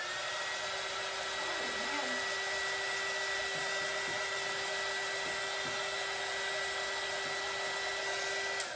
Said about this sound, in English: All you're going to do is turn your embossing gun on,